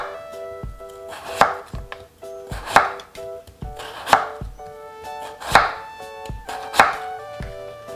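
A knife julienning Korean radish into fine strips on a cutting board for tomato geotjeori, with a steady series of about six crisp, close chopping strikes at an even rhythm.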